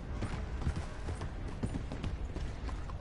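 Horse hooves in the video game Red Dead Redemption 2, a steady, close clip-clop of hoofbeats in quick rhythm throughout, with a faint background rumble.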